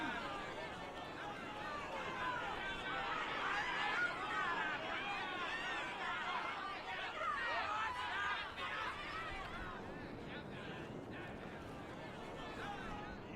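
Crowd chatter at the gates in Dragon Age 2, a dense babble of many voices murmuring together at moderate distance, steady throughout and fading slightly near the end.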